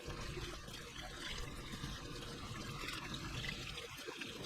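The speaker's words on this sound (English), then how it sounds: "turn the water on warm and start rinsing the oil off before you use the soap" Warm water runs steadily from a tap over oily hands being rinsed, a continuous close splashing rush that holds for several seconds with no voices.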